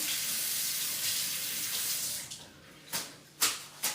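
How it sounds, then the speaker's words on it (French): Tap water running over flat parsley at a sink, a steady close rush of water that fades, followed by a few short splashy bursts as the herbs are rinsed, no speech. "Donc je rince mon persil."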